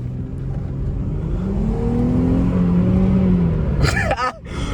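A car engine revs hard toward redline, its droning pitch climbing steadily and loud up close before a sharp high whine and a sudden drop as it backs off.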